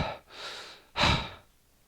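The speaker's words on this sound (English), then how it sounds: "That was like a heavy breathing." Two heavy breaths, a long drawn exhale followed by a sharper, louder gasping breath, close and alone with no talk, in a scene from The Walking Dead Season 10.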